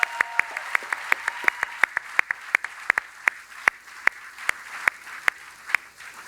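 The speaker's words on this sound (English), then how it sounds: "Let's give all these workers one big round of applause one more time." Ford factory workers are applauded by an audience in Kentucky, sharp individual handclaps ringing out at an uneven but steady pace, fairly near, over a quiet room hum.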